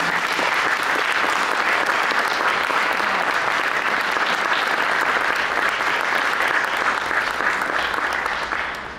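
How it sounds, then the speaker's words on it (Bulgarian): Audience applause following a music performance at an interfaith art event, a steady dense wash of clapping that holds loud for about nine seconds before starting to fade at the end. "Аплодисменти за блестящите представители."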